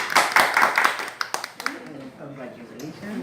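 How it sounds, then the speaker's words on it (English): A small class claps briefly in a lesson, a few quick, close hand claps at the start that fade as a voice begins speaking. "Give yourself an applause."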